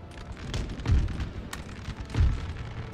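Cannon fire in a Napoleonic-era battle in the strategy video game Napoleon: Total War, Spanish campaign ambush in the Pyrenees: two deep, booming blasts about a second apart, over a steady rumbling battlefield background.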